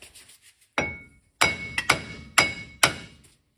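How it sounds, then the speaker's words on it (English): Hammer blows striking a wheel bearing on a 2010 GMC Yukon, five sharp metallic impacts with ringing decay, spaced irregularly and close by, with a brief faint tap before them. "Now I'm just gonna hit the backside with the hammer and work both sides till it comes off."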